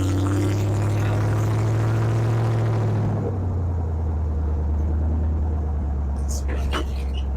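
A 1967 Pontiac Firebird 400 drives along a road, its engine a loud, steady low drone with rumbling tire noise, easing in tone partway through, with brief faint clicks near the end.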